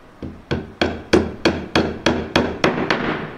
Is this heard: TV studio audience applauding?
no